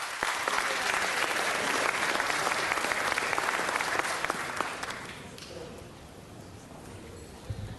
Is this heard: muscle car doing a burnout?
no